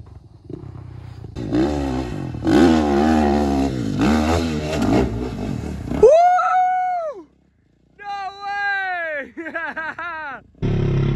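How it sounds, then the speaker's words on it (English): A dirt bike engine revved while warming up at sand pits, a rough, throaty idle rising and falling, then sharp high revving whines in bursts with a brief silence between, close and loud. "Gotta get the bike warmed up."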